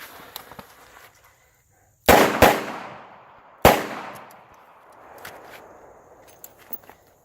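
Shots from a Smith & Wesson 586 revolver fired left-handed during a training session: two close, sharp reports in quick succession, then a third after a pause, each ringing out with a decaying echo amid light footstep-like shuffling.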